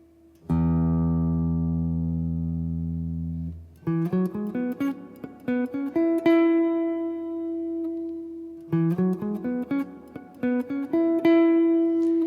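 Electric guitar plays a phrase from a solo, opening with one long sustained note that fades, followed by a run of quick picked notes and a held tone, the pattern then repeating, solo and clear.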